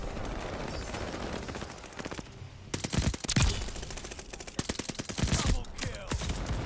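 Rapid bursts of MP40 submachine gun fire in a video game, loud close rattling volleys separated by short pauses, with a quieter stretch partway through before the shooting resumes.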